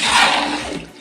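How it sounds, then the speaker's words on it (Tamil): Water gushes into a large pot of chicken dum biryani being cooked for forty people, a loud splashing pour that starts strong and tapers within about a second. "இப்ப 5 கிலோ அரிசிக்கு தேவையான தண்ணி சேர்த்திக்கலாங்க."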